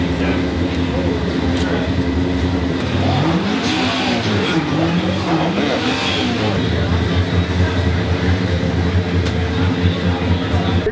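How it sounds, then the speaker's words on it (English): A student-built Formula SAE race car revs and accelerates, its engine pitch rising and falling in rapid sweeps over a loud, constant background of nearby engines and crowd noise. "Car number 11 coming up the line next."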